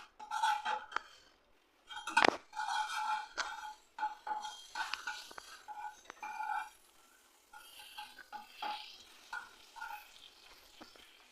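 Cardamom pods and bay leaves are stirred in a pan, with a soft sizzle broken by repeated scrapes and metallic clinks of the spoon against the pan, including one sharp clang, coming in uneven bursts.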